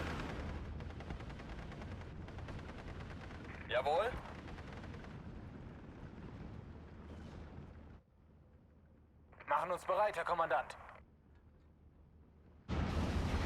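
Typhoon anti-tank air strike in Steel Division: Normandy 44, a double strike on Fallschirm Pioneer infantry: two short loud bursts of rocket and gun fire, the second longer, over a steady rumble of battlefield noise.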